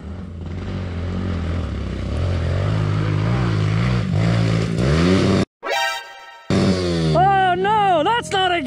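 Small 110cc dirt bike engines rev hard nearby, a steady buzzing drone that rises in pitch through shifts, cuts out briefly, then climbs again in several sharp revs, with voices faintly underneath.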